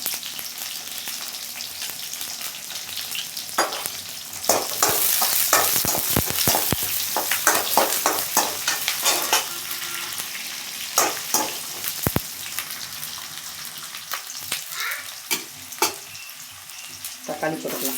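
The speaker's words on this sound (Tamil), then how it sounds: "பூண்டு வெங்காயத்தை நல்லா வதக்கலாம்." Garlic and onion fry in a pan for a curry leaf chutney, giving a steady loud sizzle with crackles and stirring scrapes throughout and no talk.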